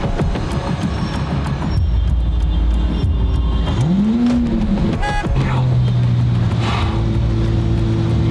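Lamborghini engine revving while the car struggles to start, loud rumbling bursts with a rising and falling rev sweep midway, followed by a steadier drone, no talk over it.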